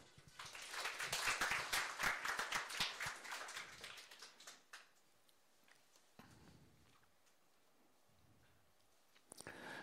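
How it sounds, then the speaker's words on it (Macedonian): An audience at a PyData meetup applauds a speaker named Aleksandar, a burst of close, crisp clapping for about four seconds that fades into quiet room tone, with a few scattered taps and a brief clatter at the end. "Еден голем аплауз за Александар"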